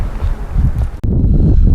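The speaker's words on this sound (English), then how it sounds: "Pardon the wind. It's a very windy day here in the middle of the Great Plains." Strong wind buffeting a microphone outdoors on a windy day in the Great Plains, a loud low rumbling roar with a brief dropout in the middle, with no speech.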